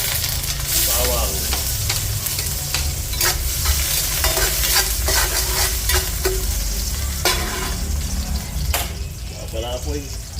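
Garlic sizzles and fries in a pan while being stirred for ginataang kalabasa, a steady bright hiss with scraping utensil strokes and brief bursts of running water.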